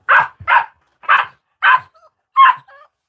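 Dogs bark in five sharp yips at close range, the last two followed by brief soft whimpering whines, with no talking over them.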